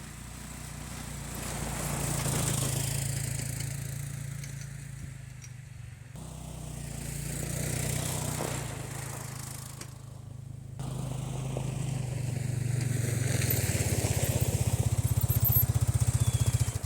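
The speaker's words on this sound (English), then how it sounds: "While this ATV pulls the trailer, its speed always stays the same because it's directly attached and directly pulled along" An ATV engine drones steadily while pulling a hitched trailer, a continuous mid-pitched motor hum that swells and eases slightly with two brief dips, heard fairly close without speech.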